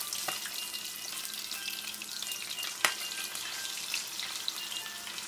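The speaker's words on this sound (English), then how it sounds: "And this is going to fry until it's golden brown." Pieces of shark frying in hot oil for bake and shark, a continuous bright sizzle and crackle with a few sharper pops and faint liquid spatter, steady and close with no talking.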